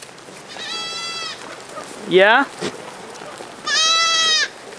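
Goats on a farm bleat loudly and close by, with two long wavering calls and a shorter cry between them, while a person speaks briefly.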